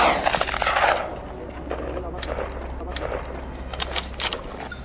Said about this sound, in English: He swiftly pulled the trigger and the boar collapsed